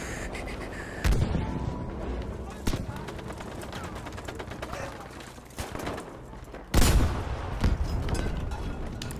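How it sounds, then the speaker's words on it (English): Heavy booming explosions and rattling gunfire in Battlefield V PC gameplay burst out at intervals, with two especially loud blasts, while a voice talks intermittently beneath the noise. "These explosions are really heavy."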